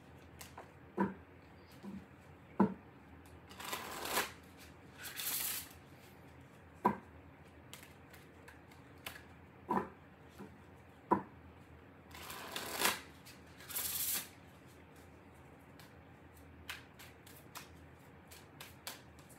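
Tarot cards being shuffled by hand, with short crisp riffling bursts and a few soft taps and slaps of the deck between longer quiet gaps, close but fairly soft.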